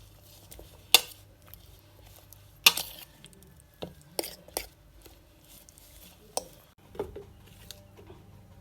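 Quiet, intermittent metal clinks and scrapes as a spoon works chicken and spices around a pan for chicken fry, with isolated sharper knocks spaced a second or so apart.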